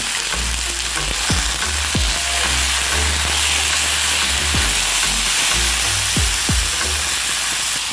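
Food sizzles and fries steadily in a pan, salt added, with repeated scraping stirs of a spatula cutting through the constant close hiss.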